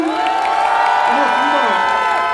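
A political rally crowd in Busan cheers and applauds candidate Lee Jae-myung, a dense, steady roar of voices and clapping with shouts and whoops rising throughout, loud and close, with tonal ringing in the mix.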